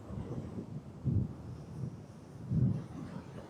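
Strong wind buffeting a DJI Osmo Action 4 camera microphone under dark overcast skies, low rumbling bursts that swell twice, fairly quiet overall, with no one speaking.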